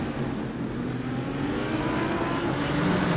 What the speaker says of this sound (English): Marcin with the Triton car does get off that loud pedal towards the end of the straight.